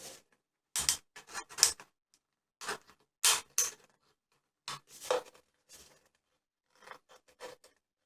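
Scissors cut through thin tin sheet from a can in a printmaking and engraving craft setting, giving crisp, scratchy metallic snips in irregular bursts with short pauses between them, close up and with no talking.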